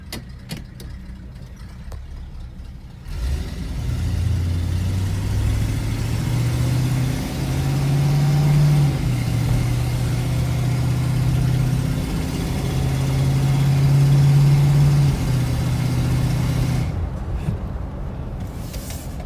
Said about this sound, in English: Let's drive it around the block.